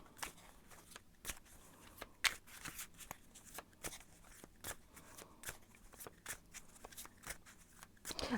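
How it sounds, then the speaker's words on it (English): Tarot cards being shuffled up close, a quick run of crisp riffling flicks and soft slaps repeating steadily at low volume. "I'm going to shuffle a little bit more"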